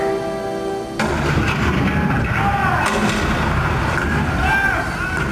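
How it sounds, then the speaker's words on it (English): Civil War cannon fire at Fort Sumter booms loudly and continuously, a dense, rumbling barrage of heavy blasts, with music or tones fading out just before it begins. "The cannon spoke for war, bitter, violent, and devastating."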